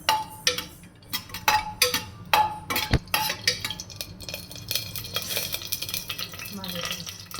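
Whole spices sizzle in two spoons of hot oil in a pan, with sharp metallic clinks and scrapes of a spoon against the pan over a low frying hiss, close and moderately loud.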